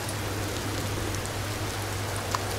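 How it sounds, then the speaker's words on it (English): Rain falls steadily in the survival game Empyrion, a constant hissing patter over a low steady hum, with no speech. "it's raining!"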